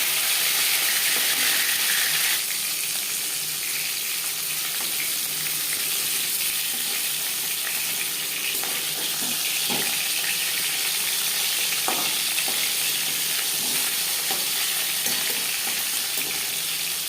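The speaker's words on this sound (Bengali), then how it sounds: "একবারেই পুরো মাছ আমি ভেজে নিলাম।" Katla fish sizzles steadily in hot oil for the whole stretch, a dense close crackle with occasional sharper pops and spatters and no voices.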